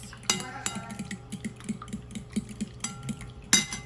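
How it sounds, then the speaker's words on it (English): Batter for dumplings in chicken soup being mixed in a bowl, with a spoon or utensil knocking and scraping in a steady rhythm, a few sharper clinks standing out. "So, just mix."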